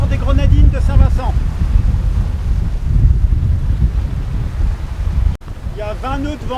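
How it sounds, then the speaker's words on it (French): Heavy, blustery wind of about 20 knots with gusts, at sea in the northern Grenadines, buffets the microphone in a constant roar, with a voice speaking briefly at the start and again at the end. "Il y a 20 nœuds de vent, puis il y a des rafales."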